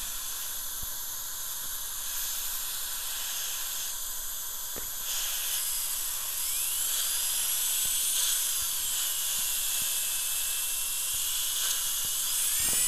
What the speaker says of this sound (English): I'm using a soft flex disc, but a more of a medium coarse grade, so I want to be able to really plane that contact and get it very smooth